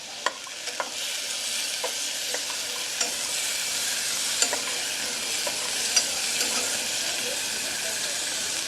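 Crab, prawn and periwinkle go into a simmering fisherman soup, giving a steady bright sizzle and hiss with scattered clicks of stirring throughout, close and continuous.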